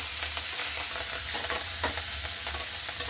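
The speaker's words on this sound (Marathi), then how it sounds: "मेथीची भाजी आता छान परतल्या गेली।" Fenugreek leaves stir and fry in a pan for a potato paratha filling, giving a steady close sizzle with scraping stirs and no talk.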